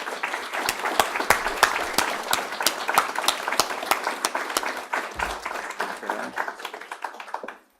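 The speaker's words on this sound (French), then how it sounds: "Encore une fois, une chaude main d'applaudissements." Applause from an audience at a 2019 honour roll ceremony: a crowd clapping steadily with distinct sharp claps standing out, fading away near the end, with no talking.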